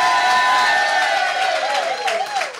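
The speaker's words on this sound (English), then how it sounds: "Big round of applause for Neil the Wee Man Bradge." A studio audience applauds and cheers for a guest on a TV show, a loud, full burst of clapping and whoops that holds steady and then tapers slightly near the end.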